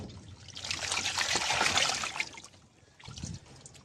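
Water trickles and splashes over a powdery pigeon as it is wetted during a bath, a close, uneven dribbling that swells, eases briefly, then splashes again near the end; no talking.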